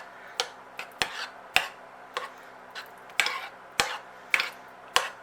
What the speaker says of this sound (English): Get the banana in. Alright, mix it all in together.